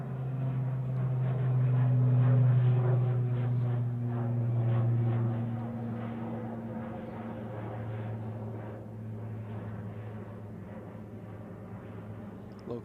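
A propeller aircraft departing Manchester Airport drones with a steady low hum that swells and then slowly fades as it moves away, heard from a distance.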